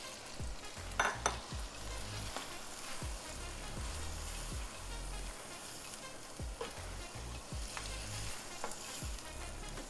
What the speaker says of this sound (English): We're going to let all this saute together for about a good minute and a half.